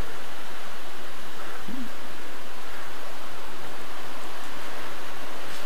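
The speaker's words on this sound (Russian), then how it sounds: "Дождь крупными каплями прям падает, и шум раздается." Heavy rain with large drops pours down as a dense, unbroken roar of hiss that stays loud and uniform throughout, with no voices over it.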